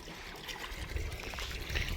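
Water gushing from a running motor pump on a farm, a steady rushing and splashing flow heard fairly close, fluctuating slightly in strength with no voices over it.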